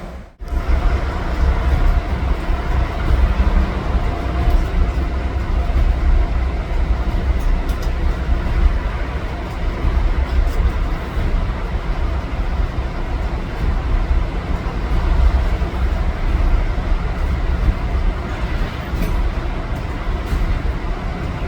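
Interior of a moving train, a steady loud rumble and rattle of the carriage running along the track throughout, with occasional faint clicks and no talk.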